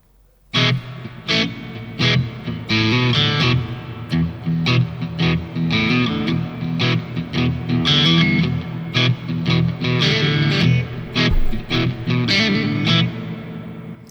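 An electric guitar runs through a reverb setting on a Donner Arena 2000 multi-effects pedal, with plucked notes and chords blooming into a long, washy tail that plays alone and continuously for about fourteen seconds.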